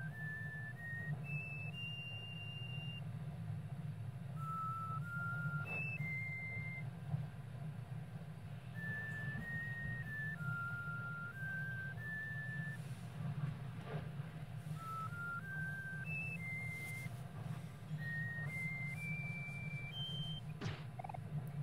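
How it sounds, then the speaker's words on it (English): Chiptune-style 8-bit whistling from the video game Omori plays a stepping melody of clean tones, steady and fairly quiet above a constant low hum, with no voices. "I didn't realize the 8-bit whistling was just Kel."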